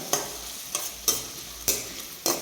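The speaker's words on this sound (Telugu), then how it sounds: "నూనె వేడెక్కిన తర్వాత సన్నగా తరిగిన ఉల్లిపాయ ముక్కలు సన్నగా తరిగిన పచ్చిమిర్చి ముక్కలు కూడా ఇందులో వేసేస్తున్నా" Chopped onion and green chillies frying in hot oil for a street-style veg manchurian: a steady hiss broken by five loud, regular bursts of stirring scrapes, close and with no talking.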